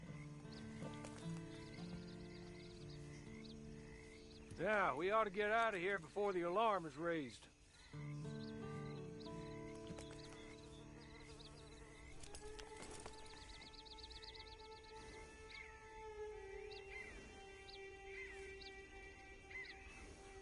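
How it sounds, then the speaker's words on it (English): A horse whinnies and snorts in Red Dead Redemption 2 Online. A loud, wavering call stands out partway through against steady game ambience, and a voice speaks before and after it. "Then you better get on this horse."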